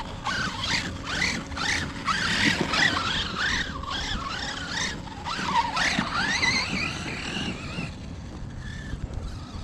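A Redcat Kaiju RC truck driving on ice toward a ramp, its electric motor whining in rising and falling pitch sweeps as it speeds up and slows, with skidding and scraping noise throughout, fairly loud and close, no voices.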